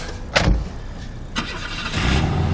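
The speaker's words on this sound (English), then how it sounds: "Push of a button, the symphony of a brand new Mustang's engine" A brand new Ford Mustang starting at the push of a button, heard close and loud: a sharp crank and catch, a second burst, then the engine settling into a deep, steady idle.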